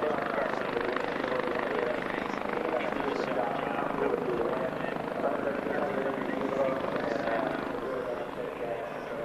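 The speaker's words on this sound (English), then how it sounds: "transported from the ambulance into the medical helicopter and is being airlifted from the circuit" A medical helicopter airlifts an injured driver from an oval race circuit during an IndyCar race at Pocono, its steady rotor and engine roar continuous and fairly loud throughout, with commentary voices talking over it.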